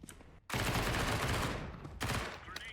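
An MP9 submachine gun sprays in Counter-Strike 2: a sustained rapid burst of about a second and a half, a brief pause, then a shorter second burst, loud and close.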